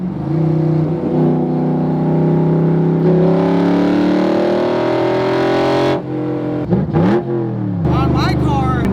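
A 600HP Coyote-swapped Shelby Daytona engine revs hard while driving, its loud rising drone climbing steadily through a gear before a sharp shift and renewed pull, heard up close from inside.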